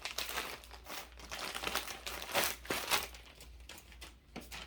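Crinkling of a small plastic Ziploc bag that held a wig, soft and close, a continuous rustle with irregular bursts as it is handled.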